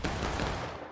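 A volley from a reenactment company firing muskets together on command, heard as one loud, ragged burst of near-simultaneous shots that fades over about a second.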